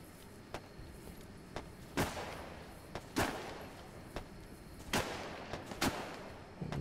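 Scattered gunshots from an Arma 3 military firefight at a factory, sharp cracks spaced irregularly with a few heavier reports, mid-distance over a steady low background.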